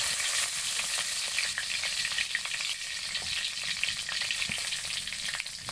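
Bay leaves frying in hot oil in a wok while preparing a rohu fish and potato curry, a steady close crackling sizzle with scattered sharp pops, no talking.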